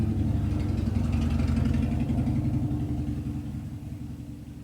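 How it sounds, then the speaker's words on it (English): A motorcycle engine idles and revs nearby, a steady mid-pitched rumble with a pulsing throb that swells slightly then gradually fades over a few seconds. "wait for the motorcycle."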